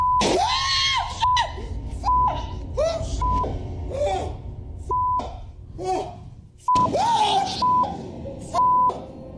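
Blood-curdling screams from a scary video rise and wail loudly in several bursts, broken by repeated electronic beeps of censored speech and harsh static.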